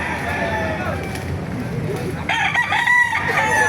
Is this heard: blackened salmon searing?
no